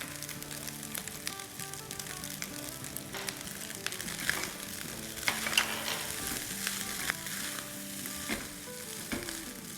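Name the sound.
stir-frying fried rice on high flame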